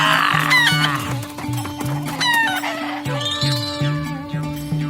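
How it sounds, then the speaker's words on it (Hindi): Hen clucking repeatedly at close range, with short rhythmic clucks and a few higher squawking calls over a steady tonal background, no talk. "मेरी मुर्गी वापस कर दो"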